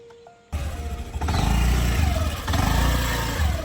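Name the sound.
Activa scooter engine arriving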